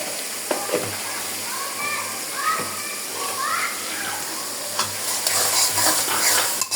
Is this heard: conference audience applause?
no